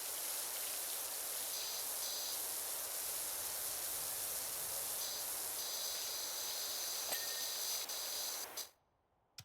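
A power washer sprays with the nozzle set horizontal in Power Wash Simulator, a steady loud hiss of water that runs unbroken for about eight seconds, then cuts off abruptly into near silence.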